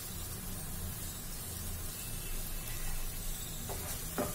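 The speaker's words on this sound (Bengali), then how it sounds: "এর মধ্যে আমি যে আলুর টুকরোগুলো ভেজে রেখেছিলাম ওইটা দিয়ে একটু কষাবো" Fried potato pieces sauté with spices in a pan for a Bengali katla fish kalia, giving a steady, close, soft sizzle with a couple of brief scrapes near the end, no one speaking.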